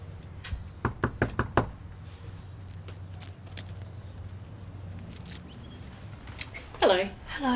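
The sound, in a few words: knocking on a door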